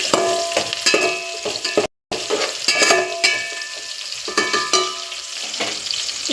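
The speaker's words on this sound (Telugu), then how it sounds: "కొంచెం ఫ్రై కానివ్వండి." Ingredients for gongura pulao frying and being stirred in a pan: a loud, close sizzle broken by repeated scraping strokes of a spatula, with a very brief gap partway through.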